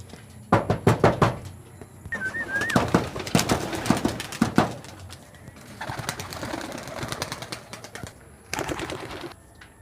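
Pigeons coo and flap near at hand, mixed with repeated knocking and clattering sounds and a brief whistle-like chirp.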